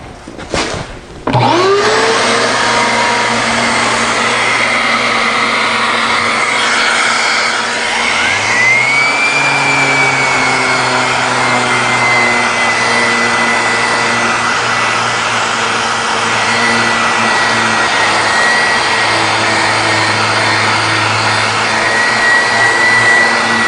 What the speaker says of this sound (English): round over these edges using just my random orbit sander